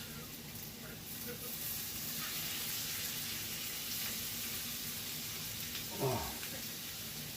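Onions and bacon fry in a pan on the stove, a soft, even sizzle and hiss running throughout at low level, with a brief clatter near the end, and a voice speaking faintly underneath.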